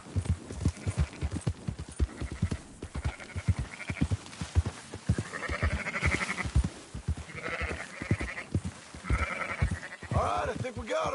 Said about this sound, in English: Marston, why don't you leave the sheep to me?